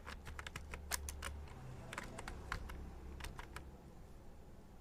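Quick bursts of keystrokes clatter on a computer keyboard while building an invoice spreadsheet in Excel, clustered taps separated by short pauses, close and fairly quiet, with no voices.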